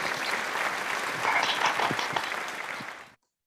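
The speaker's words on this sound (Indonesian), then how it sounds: "Wah, beri tepuk tangan untuk Disa dan di Denikri" A primary classroom applauds two students during a third-grade social studies micro-teaching lesson on buying and selling. The steady, moderately loud clapping from many small hands lasts about three seconds, then stops abruptly.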